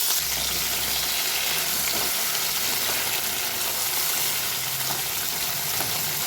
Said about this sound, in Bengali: মাছ ভাজার তেলে একটু কালো জিরে দিয়ে দিলাম আমি এখানে সবজিগুলো দিয়ে দিলাম